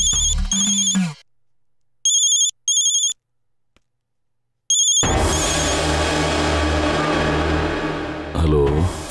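An electronic telephone ringtone repeats in short, loud bursts separated by silences, then gives way to dense background sound and voices.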